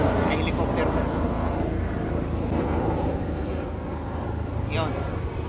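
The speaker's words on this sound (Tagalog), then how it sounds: "May helicopter sa taas." Aircraft engine drone, likely a helicopter passing overhead at a fishing spot, heard as a loud steady rumble that persists throughout, with people talking over it.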